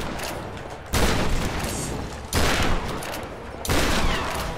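Heavy bursts of video-game gunfire in Tomb Raider come in three loud blasts, each sustained for about a second or more, with dense crackling noise between them.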